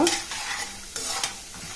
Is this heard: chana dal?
yes